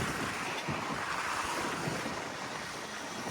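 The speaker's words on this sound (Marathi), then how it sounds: "असं पाणी वाहत आहे सगळं" Floodwater from heavy rain rushes outdoors in a continuous, fairly faint wash of flowing noise, with no talking.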